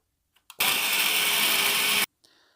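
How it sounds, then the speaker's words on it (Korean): A blender grinds frozen apple, ginger and cola for a braised beef short rib marinade, a loud steady whirring roar lasting about a second and a half, bracketed by faint clicks and handling. "사과 생강, 콜라 넣고 갈았고요"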